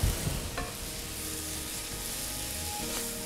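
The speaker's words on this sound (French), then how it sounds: "Je lance mes oignons en cuisson." Onions frying in a pan with coriander seeds, spring onion, citrus zest and crushed garlic cloves give a steady, even sizzle throughout, with a couple of faint utensil clicks.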